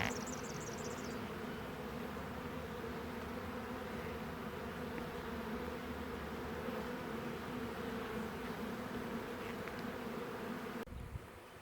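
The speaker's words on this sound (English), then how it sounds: "A few bees on the top, a clump still sort of halfway down, small clump, and heaps down low." A swarm of bees buzzes continuously and evenly at close range, a dense drone holding steady for the whole stretch before a brief thump at the end.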